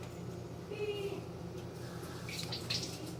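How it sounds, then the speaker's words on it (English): Tap water runs steadily over lettuce in a kitchen sink, a soft continuous rush with faint splashing, fairly quiet with no talking. "Just wanted to rinse my lettuce off a bit."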